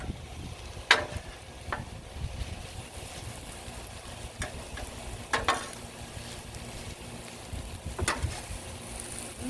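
Meat stir-frying on a flat griddle sizzles in a steady low hiss, broken by a few sharp scraping clicks from a spatula, close up and with no one talking.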